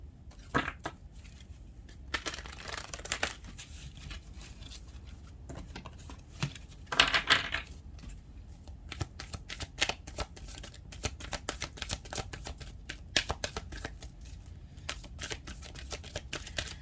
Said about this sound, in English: You can see here I'm shuffling Wisdom of the Oracle.